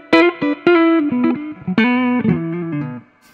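Electric guitar played through the spring reverb setting of an H9 pedal on a Fly-Rig pedalboard, a few plucked notes and short phrases ringing out alone with a springy, splashy tail.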